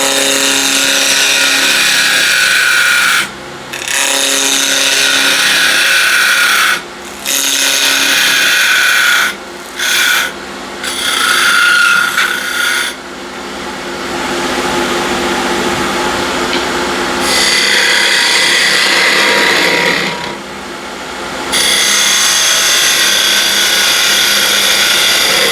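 A small skew chisel cuts a tenon on wood spinning at 2050 RPM on a lathe, giving a steady broadband scraping hiss that runs close and continuous, broken by several brief pauses as the tool lifts off.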